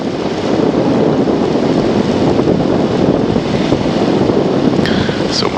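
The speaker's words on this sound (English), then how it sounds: "Yeah, it looks like we got some wind at least." Steady wind roaring across an airfield, with flags flapping nearby; a constant loud gusty rush fills the whole stretch, with a faint brief higher sound near the end.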